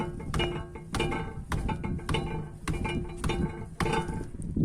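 Repeated metallic knocking and clanking from under a Renault Logan, sharp irregular knocks over a steady mechanical rumble, fairly close, with no talking.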